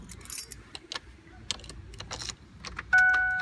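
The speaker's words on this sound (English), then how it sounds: "you can try the ignition a bit to see if you can actually hear it" Key inserted and turned in a Ford ignition switch, light metallic jangles and clicks, then a steady electronic warning chime sounding near the end, close and fairly quiet.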